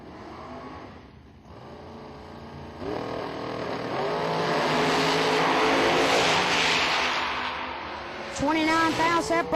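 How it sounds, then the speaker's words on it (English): A drag racing dragster roars loudly down the strip at a Million-dollar race event, a sustained harsh engine blast with rising pitch, heard alongside an announcer's commentary. "Another bad, fast dragster."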